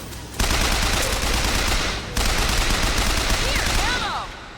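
Loud, rapid automatic gunfire, like a light machine gun, from Bioshock Infinite comes in two long sustained bursts separated by a short gap, dense and close, then trails off at the end.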